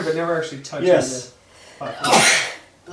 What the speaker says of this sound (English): The void sneezed.